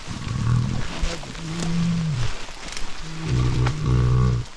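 A bear growls near a spot with fly agaric mushrooms, letting out deep, rumbling growls in several separate bursts, loud and close.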